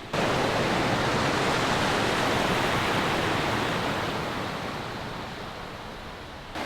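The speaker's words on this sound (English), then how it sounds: "There is a lot of water here." Powerful rushing mountain water roars steadily and loudly close by, a dense unbroken torrent that eases slightly toward the end, with no voices over it.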